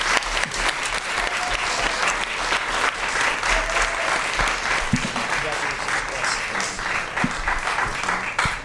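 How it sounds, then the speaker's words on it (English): Sustained applause from a crowd at a school district governing board meeting, steady clapping filling the room for several seconds with voices faintly mixed in. "Give him a round of applause."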